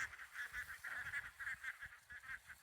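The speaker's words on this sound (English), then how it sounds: "Those ducks are not liking the water, so he's trying to train them to go into the water and be ducks and to swim." Domestic ducks or geese near water give a continuous run of nasal honks, overlapping and repeating in quick succession, heard at moderate distance and fairly quiet, with no speech.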